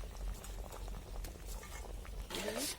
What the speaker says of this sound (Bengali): দেখুন টকবক করে ফুটতেছে।